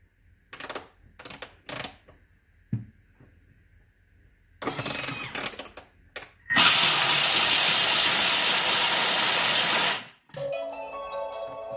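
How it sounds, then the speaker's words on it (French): A Thermomix grinds hazelnuts into praline powder at speed 6: a few knocks and rattles of setup, then a loud, rough, dense grinding roar for about three and a half seconds that stops abruptly, followed by faint clinks. "je vais mixer 3 secondes à la vitesse 6"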